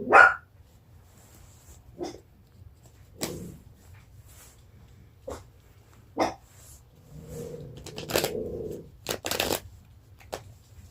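A dog shut out of the room gives scattered short barks and yelps, several sharp bursts separated by quiet gaps, with a brief cluster of rapid noise near the end.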